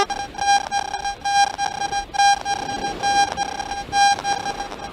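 A Garrett AT MAX metal detector ground balancing over dry sand gives off repeated high electronic beeps, a pulsing steady tone that swells and dips in regular bursts, close and clear with no talk.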